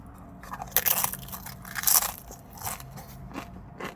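Crunchy tortilla chips in a taco salad being bitten and chewed, with several sharp, close crunches breaking out in quick bursts against a quiet background.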